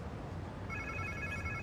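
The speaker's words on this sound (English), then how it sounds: "Sounds like somebody's phone." Phone ringing inside the Marvel's Spider-Man 2 video game, a steady electronic trill that starts partway through and repeats over a constant background ambience.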